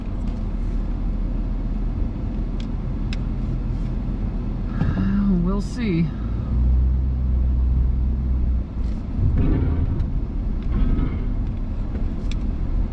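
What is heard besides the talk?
vehicle driving onto scrap yard scale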